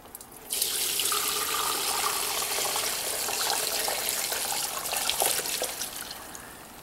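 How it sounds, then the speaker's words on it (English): Lemon liquid pours into a container in a steady, close splashing stream that starts abruptly and runs continuously, then tapers slightly toward the end. "Let's see if I can pour this in here."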